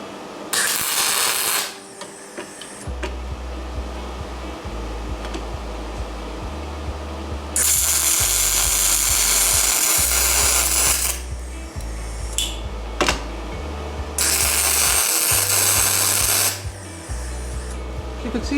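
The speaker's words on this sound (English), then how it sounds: "So the heat's in it now, so I'm going to continue welding this last part here." MIG welding on aluminium on a Fiat Scudo van, loud steady buzzing hiss in several long bursts separated by pauses, close up, with a low electrical hum underneath.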